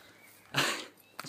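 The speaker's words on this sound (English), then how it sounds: "He's a border terrier." A border terrier gives a short, breathy snuffle up close, a brief burst of sniffing noise followed by a softer second puff.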